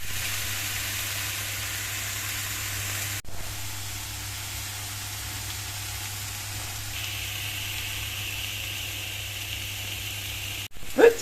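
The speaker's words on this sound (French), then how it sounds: "des brocolis que je vais faire revenir à la poêle avec un peu de crème" Broccoli fries in a pan, giving a quiet, steady sizzling hiss that continues evenly, broken by a couple of brief clunks from the pan.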